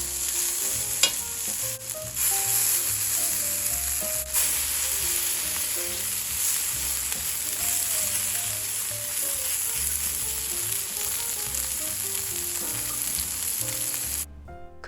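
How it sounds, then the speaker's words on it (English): Offal burger mixture of organ meat sizzles on a hot skillet, a loud, steady frying hiss that carries through the whole stretch. Background music plays underneath, and no one speaks. "I'm just going to use a large spoon to scoop it onto the hot skillet, almost like a thick pancake batter."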